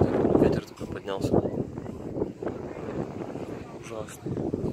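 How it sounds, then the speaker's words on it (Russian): Strong wind gusts buffet the microphone on a seaside beach at Karolino-Bugaz under gathering storm clouds, a rough, roaring rumble rising and falling while a person talks. "Смотрите, ветер такой поднялся."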